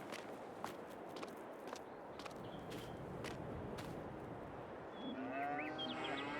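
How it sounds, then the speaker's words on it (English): Cattle low intermittently on a farm in Farming Simulator 22, a few moderately close moos mixed with footstep-like shuffling over steady ambient game noise, with a rising tonal sweep near the end. "Cows are all happy."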